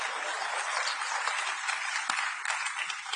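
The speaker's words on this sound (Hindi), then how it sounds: "इसका मतलब आपको ताली मारनी है।" An audience at a Delhi government event claps on cue, a dense steady burst of applause from a crowd, continuous throughout.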